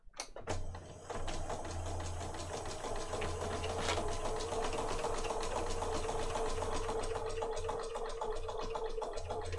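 A sewing machine stitches a paper pocket for a junk journal, running with a steady fast whirring rhythm after a brief start, loud and continuous to the end with no voices.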